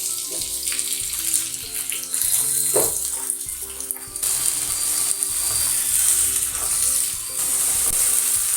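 Chopped medium tomatoes sizzle with onions in a pan for plain hotel-style salna, a steady close frying hiss with a few clinks and stirring scrapes and no talking.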